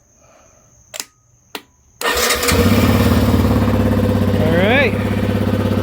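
A car engine, jump-started with a Lokithor J400, cranks briefly and catches, then settles into a loud, steady, close idle with a quick rev near the end, after two sharp clicks and a spoken word at the start.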